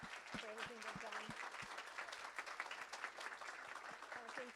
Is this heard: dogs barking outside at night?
no